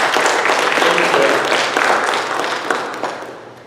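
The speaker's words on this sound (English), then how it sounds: "So round of applause for Patricia." A church congregation at a Sunday morning service applauds, a dense wash of clapping that holds for a couple of seconds and then thins and fades out, with a voice faintly under it.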